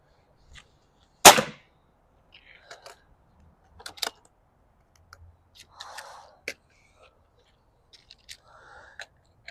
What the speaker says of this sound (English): So now we are shooting a little bag of sand with extreme penetrator 22 air rifle rounds.